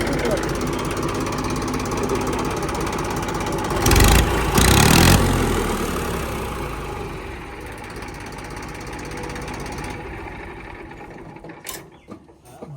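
A Tafe 1038 tractor with a newly rebuilt engine runs with a steady mechanical rattle and hum, briefly louder around the middle before settling, while people talk nearby.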